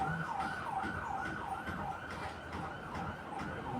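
An ambulance siren wails in a repeating rising-and-falling cycle, steady and moderately distant, sweeping about twice per second over faint background noise.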